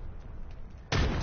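A frag grenade detonates in a first-person shooter game, a sudden loud boom cutting in after a stretch of quieter game ambience.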